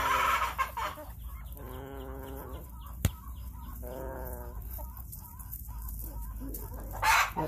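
Chickens in a sunny farmyard cluck softly in short bursts and rolling runs, with a sharp click partway through and louder flock noise at the start and end.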